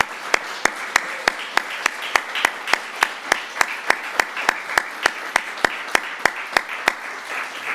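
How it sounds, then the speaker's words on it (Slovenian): Warm indoor applause from a ceremony audience honoring Slovenian ski jumping medalists, steady dense clapping with a few sharp louder claps standing out in a regular pattern, sustained at even volume throughout. "jih lahko prosim, da vstanejo in da jim damo en prisrčen aplavz"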